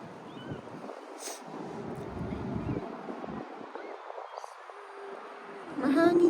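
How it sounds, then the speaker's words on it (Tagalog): Wind by a roadside, a continuous moderate rushing with low buffeting gusts, with faint voices and brief distant sounds over it, rising slightly at the end. "Mahangin siya pero ang sarap."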